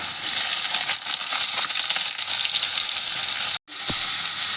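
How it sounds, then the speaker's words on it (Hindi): Besan-coated biriya pieces made with chickpea greens fry in hot oil in a kadhai, a loud continuous sizzle close by that cuts out for a moment near the end and then resumes, with no talk. "इसी प्रकार हम सारे बिरया को फ्राई कर लेंगे बेसन में लपेट के।"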